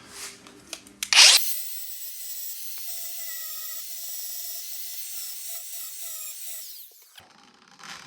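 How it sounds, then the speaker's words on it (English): Angle grinder smoothing down a small spot weld on metal, one steady whining run of about six seconds with a gritty edge, close and loud, with brief handling noise before and after. "Do a little touch-up grinding"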